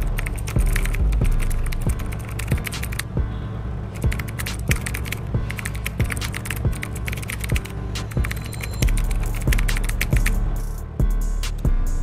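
Fast, continuous clicking of a computer keyboard being typed on, close and crisp, with dense bursts of keystrokes and a few brief pauses throughout.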